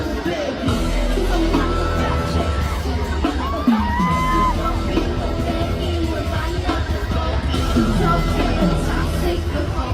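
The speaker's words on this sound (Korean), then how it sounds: "멤버들의 파워풀한 안무에 맞춰 뜨거운 환호를 보냅니다." Fans at a concert in Bangkok cheering, screaming and whooping loudly, a continuous roaring crowd din with high excited shrieks rising over pulsing music.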